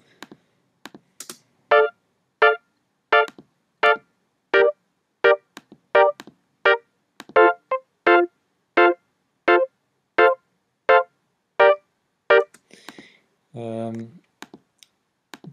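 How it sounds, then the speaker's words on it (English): Short, evenly spaced keyboard chords repeat in a steady staccato reggae rhythm from an organ and electric piano, ending with a brief held tone. "I've also complemented this with a organ sound and a electric piano"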